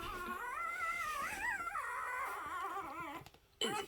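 A newborn puppy whimpers and whines in drawn-out, wavering high cries while being carried to its mother, close and clear, ending with a short sharp yelp.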